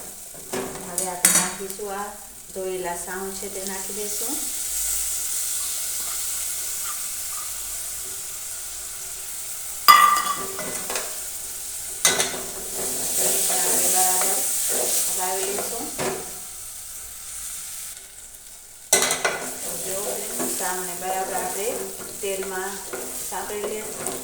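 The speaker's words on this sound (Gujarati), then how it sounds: "ધાણા પાવડર હવે તેને આપણે બરાબર મિક્સ કરીશું જેથી કરીને મસાલા છે તેલમાં સરસ મિક્સ થઈ જાય" Coriander powder and spices fry in oil while being stirred, giving bursts of sizzling and scraping separated by quieter gaps, close and moderate in level.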